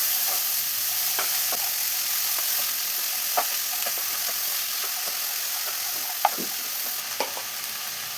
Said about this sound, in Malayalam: ഇതെല്ലാം കൂടെ ഒന്ന് മിക്സ് ചെയ്ത് വെക്കാം.